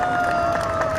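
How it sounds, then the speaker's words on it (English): A crowd at a downtown rodeo parade claps and cheers in a dense, continuous wash of applause, close and fairly loud, brief and without pause. "Give a round of applause for Judge Caroline Dozier and City Councilman"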